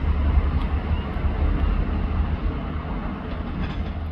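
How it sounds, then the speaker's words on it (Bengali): A train rumbles in toward a Melbourne station platform, a steady low, heavy roar with faint rail clatter running throughout, no talk. "ওই যে দূরে আমার ট্রেন আসতেছে"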